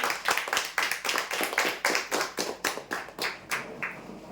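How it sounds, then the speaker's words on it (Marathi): Applause for prize winners at a weekly lucky draw, a steady run of rhythmic, close, crisp hand claps from a small group that gradually tapers off. "जोरदार टाळ्या"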